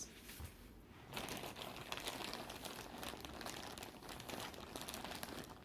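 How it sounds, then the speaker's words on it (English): Packaging crinkles steadily close up, a continuous crackly rustle of handled wrapping that runs the whole time at low level, with no one speaking. "sorry for the crinkling"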